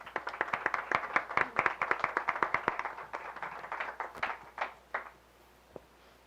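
Audience applause at a public presentation event, a thin, sparse round of clapping from a small group that starts quick and rhythmic, then thins to scattered final claps.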